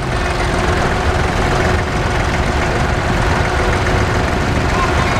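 A 1983 Massey Ferguson 590 tractor engine idles at an agricultural show with a steady low, throbbing rumble throughout, continuous and close.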